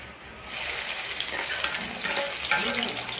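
Garlic hits hot oil with a steady, close, loud sizzle and frying crackle that runs throughout without pause, after peanuts were fried in the same oil.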